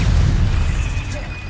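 A stunning spell blast from Hogwarts Legacy lands with a short, heavy boom that fades quickly, loud and close amid game sounds.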